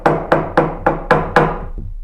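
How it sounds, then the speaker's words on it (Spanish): Knocking thuds from an upstairs floor, as if furniture is being moved: six heavy, evenly spaced knocks about a quarter second apart, then a softer final one, close and loud with no voices. "Eran golpes constantes, como si alguien estuviera moviendo muebles."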